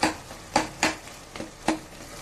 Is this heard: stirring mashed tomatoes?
yes